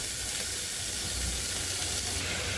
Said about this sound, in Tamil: கேரட், அதுக்கப்புறமா உருளைக்கிழங்கு சேர்த்துட்டு நல்லா வதக்கி விடுங்க